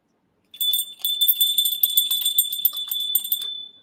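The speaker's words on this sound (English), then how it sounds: "this is an actual It's a Wonderful Life replica bell" A replica of the bell from It's a Wonderful Life rings continuously and close by, a bright sustained metallic jingle with rapid shaking strikes that starts after a brief silence and carries on for about three seconds.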